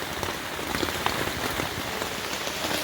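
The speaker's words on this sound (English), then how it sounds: "it hasn't stopped raining" Heavy monsoon rain pounds steadily on a camping tent, a dense, loud, continuous patter with occasional sharper drops.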